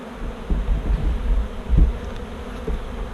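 Honey bees buzz around an opened beehive during a queen check after comb honey harvest, a steady low drone with a few louder passes close by.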